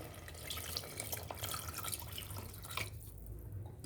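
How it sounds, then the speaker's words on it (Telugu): Water poured into a palak paneer curry in a pan, a soft splashing, trickling pour that runs for about three seconds and then stops, faint and close with no talking. "వాటర్ పోసుకోవాలి"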